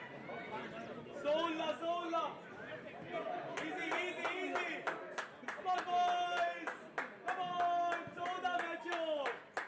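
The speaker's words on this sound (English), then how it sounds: "The fans cheering for Dempo" Football fans in a Goa stadium cheer and clap for Dempo Sports Club during an I-League 2 match against Sudeva Delhi FC, with bursts of applause, shouting and crowd chatter under a commentator's voice throughout.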